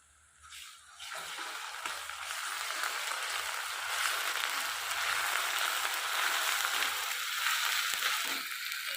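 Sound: ginger garlic paste frying with browned onions

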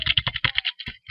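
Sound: laptop keyboard tapping

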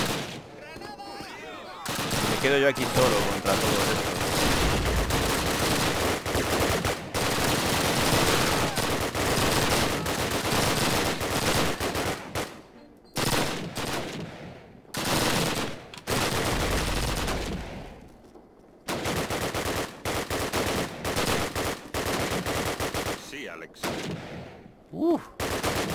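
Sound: gunfire in the video game Call of Duty

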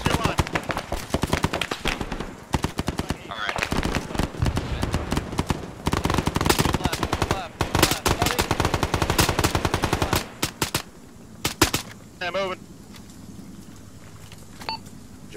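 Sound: gunfire in a video game

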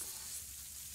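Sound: frying food sizzling in Ale and Tale Tavern video game

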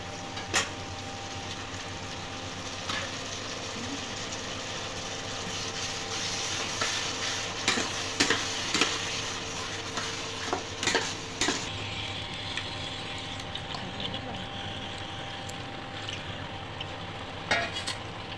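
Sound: spice paste frying and being stirred in pan

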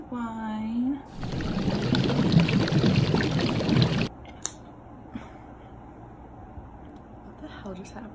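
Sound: pouring a glass of wine

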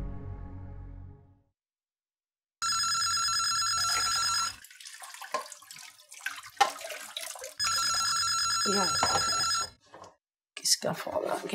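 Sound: telephone ringing

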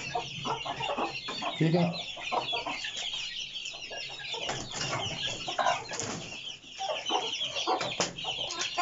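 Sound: aseel hen clucking

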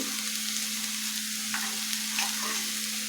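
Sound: sautéing sandwich filling in a pan

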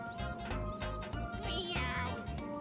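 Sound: Eevee cry in the video game Pokemon Snap

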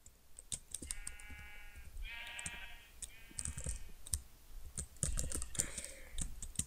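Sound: sheep bleating in the video game Minecraft

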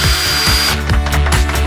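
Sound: power drill running

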